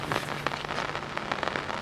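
Rain falling steadily outdoors at a disc golf course, a dense patter with scattered sharper drops tapping on nearby surfaces throughout, close and continuous with no voices.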